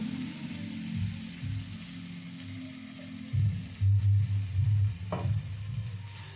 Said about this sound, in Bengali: লতিটা দিয়েও ভালো করে পোস্তর সাথে মিশিয়ে নেব।